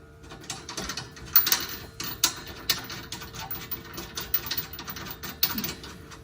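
A socket ratchet clicks in quick, uneven bursts while tightening bolts on a Reese class IV receiver hitch under a vehicle, close and fairly soft, with occasional metallic knocks between the runs of clicks.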